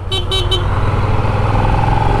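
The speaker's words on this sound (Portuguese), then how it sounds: "olha esse caminhão aqui" A truck passes on the road beside a Suzuki SV650 motorcycle, giving a loud, steady low engine rumble close by, with three short horn-like toots near the start.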